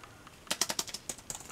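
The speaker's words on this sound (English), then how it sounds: "Your standard noisy keyboard." Quick, clattery keystrokes on an Inland Bluetooth keyboard case for an iPad Air 2 come in an uneven burst of about a dozen sharp clicks, close and fairly quiet.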